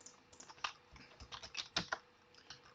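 Quiet typing on a computer keyboard while entering numbers in Octave, a run of irregular soft key clicks with small clustered bursts, close and alone.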